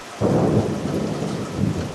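A summer thunderstorm in Georgia: a deep, loud roll of thunder breaks in after a brief hush and rumbles on continuously over steady rain, with a second swell of rumbling near the end.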